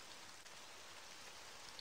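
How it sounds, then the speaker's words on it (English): Light rain patters against window glass in the PC game Trilby's Notes, a faint, even hiss of drops with no talking. "Light rain pattered against the glass."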